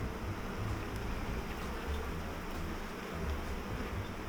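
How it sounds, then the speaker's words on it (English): Honey bees shaken off hive frames into a box, a dense, steady buzzing drone of many insects filling the whole moment at moderate level, with no talk. "we're taking the bees off these frames"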